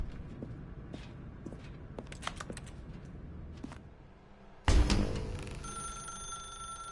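Telephone ringing in The Stanley Parable, a loud sudden ring that cuts in after a stretch of quiet tapping and clicking, then continues as a sustained tone with no talk.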